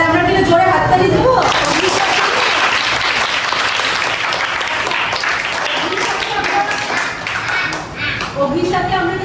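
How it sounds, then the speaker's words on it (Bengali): Loud, sustained applause from a group of children in Kolkata, dense clapping that swells and then slowly tapers toward the end. "তাহলে আমরা কিন্তু জোরে হাততালি দেবো।"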